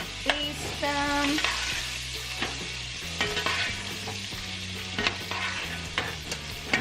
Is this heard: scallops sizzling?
yes